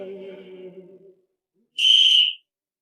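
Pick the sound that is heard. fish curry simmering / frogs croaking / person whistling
person whistling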